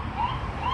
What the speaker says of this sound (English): Never mind, that's an ambulance.